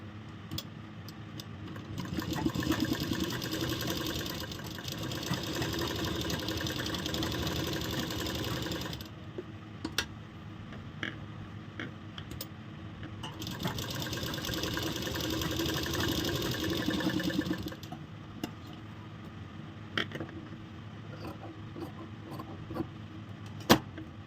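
A sewing machine stitches ladies' shirt pieces in two steady, quiet runs of whirring motor hum, each several seconds long, separated by softer handling noises and small clicks.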